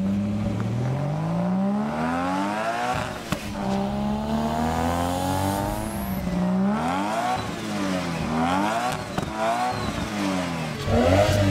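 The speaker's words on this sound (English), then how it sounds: "doesn't the T51R sound a little smoother or different in texture to the other setups?" RB30-swapped Nissan R34 GTR with an HKS T51R turbo revs repeatedly, its pitch sweeping up and down in smooth waves, loud and close with no talking.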